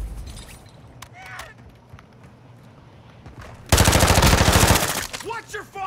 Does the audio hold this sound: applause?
no